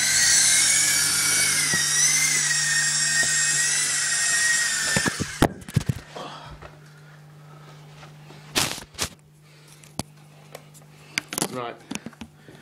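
A Syma S032G model helicopter flies in the dark, its high whining rotor and motor buzz loud for about five seconds before dropping away, followed by scattered clicks and handling sounds.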